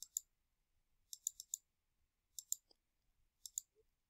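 Sharp mouse clicks from operating LabVolt circuit software, arriving in small quick clusters of two to four with short silent gaps between, close and crisp.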